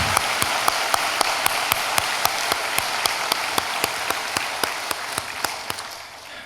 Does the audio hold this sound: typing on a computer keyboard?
no